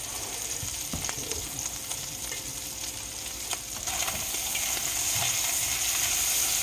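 Smoked sausages fry in a pan, giving a steady close sizzle and crackle with scattered pops and light scraping, the hiss growing slightly louder toward the end; no one speaks.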